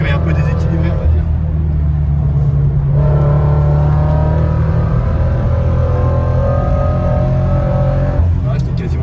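A Toyota GT86 engine runs at nearly full throttle, a loud sustained in-cabin drone that holds steady and then shifts pitch, with people talking over it.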